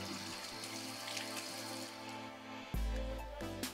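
Lukewarm tap water runs into a sink during face washing, a steady close stream that briefly surges louder near the end, with no talk.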